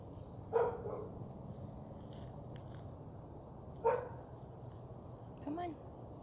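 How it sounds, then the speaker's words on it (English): A dog barks three separate times at a distance, short single yaps spaced several seconds apart, faint over quiet outdoor ambience along a walking path. "You hear the doggy?"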